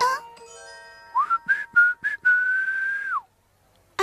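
A cartoon character whistles while working, a short melodic tune of a few quick chirpy notes followed by a long held note that slides down, clear and close, with faint music underneath.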